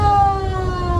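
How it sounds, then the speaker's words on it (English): A 1965 brush fire truck's siren, rewired to sound through the factory horn, wails in steady sustained tones over a low rumbling engine, loud and close. "and Terry is going to turn the siren on"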